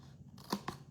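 Scissors snip off a small piece of paper, two quick close crunching cuts in a second of quiet room tone.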